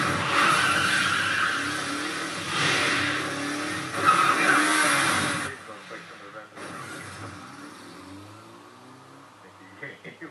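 Vehicle chase in Resident Evil 6 pitting a tank against a motorbike: loud roaring engines and skidding tires over the first half, then fading into quieter rumbling game effects with speech over parts of it.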